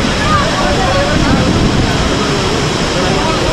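Heavy rushing water at Kalu waterfall in Malshej Ghat, a loud continuous broadband roar with no break, filling the whole few seconds.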